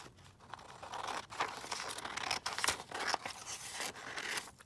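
Scissors cut plain card stock down to size for an envelope, giving a steady close, crisp slicing and crinkling rasp that runs for several seconds with no talking.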